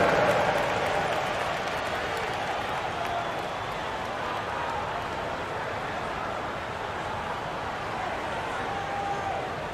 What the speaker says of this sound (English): All right, a big round of applause for the 407.